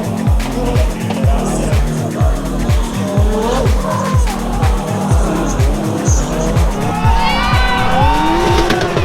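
Gymkhana race cars, including a Mazda, circle an event course with engines droning in rapid pulses and tires squealing and skidding throughout, loud and sustained, with a voice talking over the noise.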